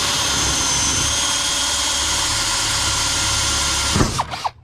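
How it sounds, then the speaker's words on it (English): A steady, loud high-pitched whine of a cordless drill with a 3/16-inch bit drilling out rivets, running continuously for several seconds, then winding down with a few short bursts at the end. "I find the best way we're going to get into this is just start drilling them"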